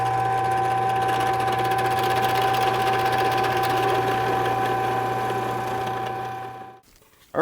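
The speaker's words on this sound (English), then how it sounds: "I'm just going to let my brad point find the center of the hole" A drill with a brad point bit bores ferrule holes into a guitar body, running as a steady, loud, high whine close to the microphone for about six seconds before it spins down and stops.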